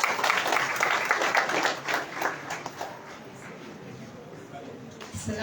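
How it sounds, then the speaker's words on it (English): An audience applauds a speaker at a school complex event, a dense patter of clapping that is loudest at first and gradually thins and fades over several seconds, heard fairly distant. "Clap for her."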